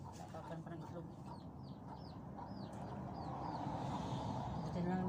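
Chickens being fed cluck and chirp in a busy, close flock, with scattered short bird calls over steady background noise; people talk in the background throughout.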